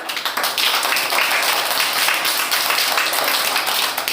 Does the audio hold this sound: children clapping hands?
yes